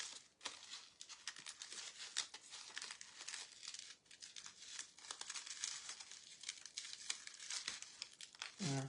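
Crepe paper crinkles and rustles steadily while being rolled into a paper rose, dense crackling up close with brief pauses and no talk.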